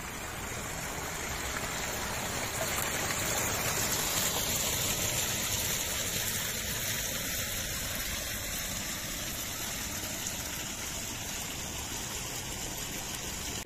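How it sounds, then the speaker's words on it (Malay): Water from a pool or waterfall at the Masjid Al-Bukhary mosque in Alor Setar, a continuous rushing wash that stays steady and fairly loud throughout. "Dan juga terdapat kolam ataupun air terjun."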